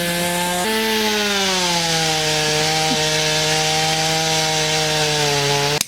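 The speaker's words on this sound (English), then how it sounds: "I'm gonna chop it up with my chainsaw." A chainsaw cuts up a log found in a roadside ditch. The engine holds a loud, steady droning whine close by, dips slightly in pitch as it bites into the wood, then cuts off abruptly at the end.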